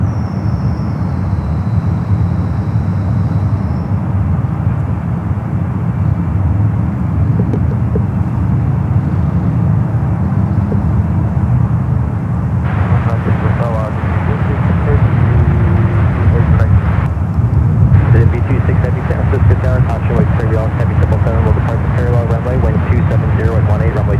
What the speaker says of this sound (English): United 77. Off to Chicago here, the